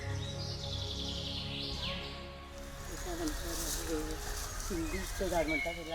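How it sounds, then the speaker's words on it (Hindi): Birds chirp and call in a tree-filled garden grove with small bird ponds, with quick, scattered tweets heard faintly under a narrating voice and other background sound. "श्रीमती नयना नारगोलकर ने पक्षियों के लिए छोटे तालाब बनाए हैं"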